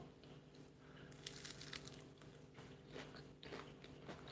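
Crunchy fried spring rolls, soft and hot inside, eaten for breakfast, give faint, close bites and crisp chewing crunches scattered through a quiet room.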